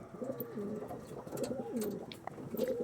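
Several Kalpora Kaldom pigeons coo in soft overlapping rolls, close by, with a few faint chirps and rustles in the background.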